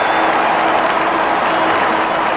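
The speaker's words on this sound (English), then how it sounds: "Crowd roaring at the MCG at quarter time" A big stadium crowd at the MCG roars steadily through a 1994 AFL match between Collingwood and Essendon, a loud unbroken wash of noise with no talking.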